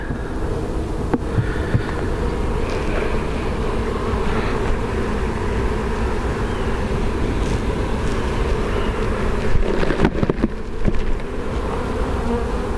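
Honey bees swarm and buzz loudly around an open hive during a varroa mite check of a big colony, a dense steady drone filling the scene with a few sharp knocks near the end.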